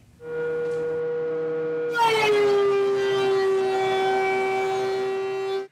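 An electric planer in a garage, muffled through IsoTunes Free earbuds: a steady droning whine that jumps louder and brighter as the blade bites, holds for several seconds, then cuts off.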